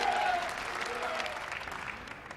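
A crowd at a professional ten-pin bowling match claps and cheers steadily. The sustained applause fills the space without letup, and a commentator's voice runs over it.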